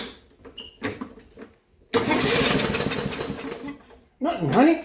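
A small lawn mower engine cranks briefly and sputters but fails to catch, giving a burst of rough mechanical noise that fades out, with people talking before and after it.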